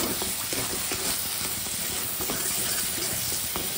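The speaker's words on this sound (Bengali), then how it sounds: "ছানা দিলাম, একটু নেড়ে দিচ্ছি।" Chhena stirred into a sizzling Bengali potol dorma filling in a pan, a steady close frying hiss with soft scraping stir strokes running throughout, no talk.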